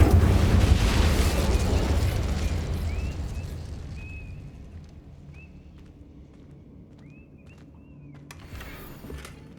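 A fire spell blast from the game Hogwarts Legacy starts as a loud, broad roaring burst that fades over several seconds. Short whooshing magical tones and small pops follow.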